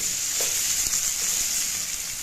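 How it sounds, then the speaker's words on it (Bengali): Tomatoes, garlic and dried chilies fry in a pan with a steady, bright sizzle throughout, broken by a couple of soft scraping stirs. "কিছুক্ষণ নেড়ে চেড়ে এটাকে মেশাবো এবং ভাজবো"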